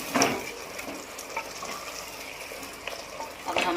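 Chicken karahi frying in a pot as it is stirred, a spoon scraping at intervals over a soft sizzle, close and alone.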